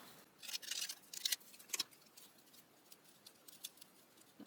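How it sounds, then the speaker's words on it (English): Scissors snip out a paper label, a few quiet, crisp cuts in a quick cluster followed by softer intermittent snips and rustles in a hushed room. "I think I'm just gonna cut this label out."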